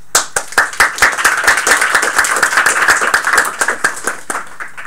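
A small audience claps after a team presentation on a VR ambulance simulator, the individual claps loud and close at first, then blending into a brisk, even patter that thins out near the end.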